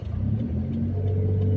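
A car engine climbs an uphill road on a half clutch, a steady mid-pitched hum rising slightly in revs as the throttle is fed in, close and continuous with no talk.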